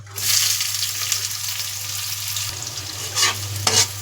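Chopped onions fry in a pan with cumin, bay leaf, fenugreek, garlic and chili, giving a steady close sizzle with a low hum underneath and a few louder bursts as the pan is stirred near the end.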